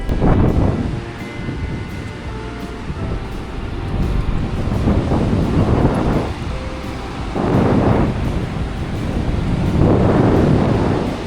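Loud sea surf on the beach at Mousuni Island rolls in repeated surges as the tide ebbs, waves washing over each other with heavy wind noise buffeting the microphone.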